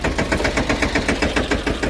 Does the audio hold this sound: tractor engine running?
yes